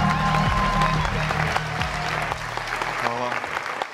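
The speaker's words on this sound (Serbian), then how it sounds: "Jednim velikim aplauzom pozdravite Marka Pavlovića." An audience applauds a speaker stepping onto a stage at a talk event, with sustained dense clapping and some crowd noise that tapers off near the end.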